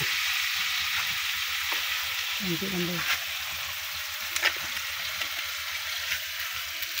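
Dried fish (tuyo) frying in a pan, giving a steady close sizzle throughout with a few soft stirring scrapes.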